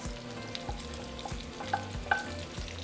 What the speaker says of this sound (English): We're going to allow it to cook for about 3 minutes or until our bacon is nice and crispy.